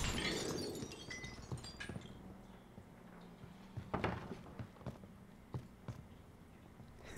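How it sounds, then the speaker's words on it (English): Glass shatters in Call of Duty Warzone on the Caldera map, a sharp breaking burst up front followed by scattered, fainter cracks and impacts like debris or footsteps over quiet game ambience. "Heard some glass."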